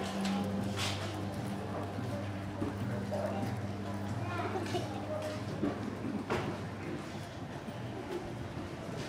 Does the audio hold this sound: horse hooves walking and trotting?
yes